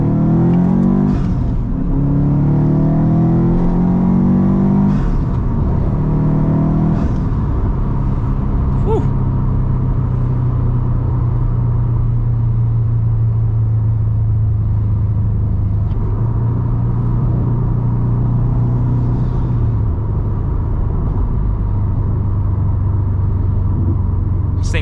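A Subaru WRX STI on new suspension drives along with a steady, loud engine drone and road rumble. Revs climb early, then hold at a constant cruising note, with no talking.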